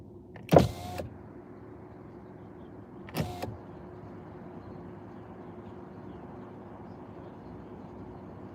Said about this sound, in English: Trying to roll down my window so maybe you guys could hear them.